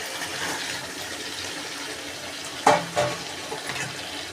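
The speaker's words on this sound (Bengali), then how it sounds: "মশলার সাথে কষানো হয়ে যাচ্ছে।" Fried potatoes and paneer sizzling with spices in a pan, a steady frying hiss broken by a few sharper stirring scrapes near the end.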